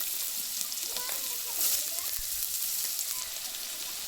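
Potatoes fry in oil in a wok with a continuous bright sizzle. A faint voice is audible underneath.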